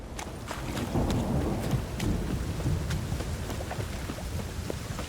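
Steady rain hisses and patters while low thunder rumbles underneath, with scattered sharper drops standing out, in the video game The Witcher 3: Wild Hunt.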